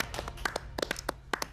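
Brief scattered clapping in a television studio, a handful of uneven, light claps from a small audience rather than a full ovation.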